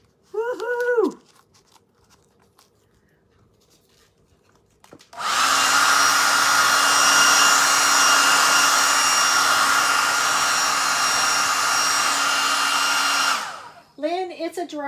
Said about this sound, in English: it's a dryer